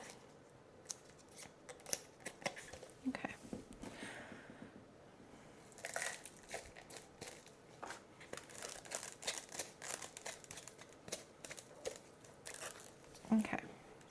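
Scissors snipping a plant cutting while prepping stock for an online plant shop, repeated quiet snips and leafy rustling with a person speaking softly.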